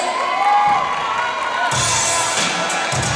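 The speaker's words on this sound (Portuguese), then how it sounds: "seus aplausos para o Rafael aí" Applause and cheering from a crowd at a trophy ceremony for Rafael Pinheiro of team PA. The sound starts as a steady mid-level wash, then swells into louder, denser clapping and shouts partway through, continuing to the end.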